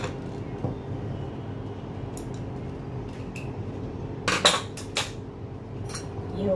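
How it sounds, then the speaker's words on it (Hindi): Spoon scraping and clinking against a metal pot while mutton curry is served out, a few sharp clatters near the end over a low kitchen background. "अब मैं डिश आउट कर रही हूँ"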